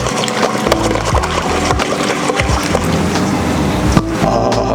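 Dijon mustard marinade for Guinness skirt steak is whisked briskly in a bowl, giving close, rapid, rhythmic clacks and scrapes that run continuously with no voice over them.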